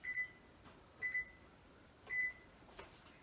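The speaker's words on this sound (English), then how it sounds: "what I'm going to do is put the timer on for 10 minutes." Three short electronic beeps from a kitchen oven or timer keypad as a 10-minute bake for soft and chewy coconut cookies is set, evenly spaced about a second apart, quiet and close in a still room.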